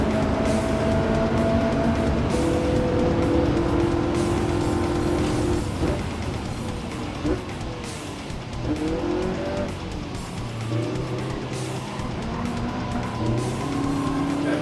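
A Jaguar E-Type in the Gran Turismo racing game revs hard, its engine note rising and falling through gear changes, with tire squeal during cornering, loud and close throughout.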